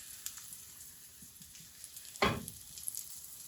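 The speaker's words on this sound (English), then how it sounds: "I'm going to pour the batter in, and I'm going to do one at a time because we've got to roll it around" Pancake batter hits a very hot copper pan with a sudden burst of sizzle, fading quickly against a low background hiss, with no talking.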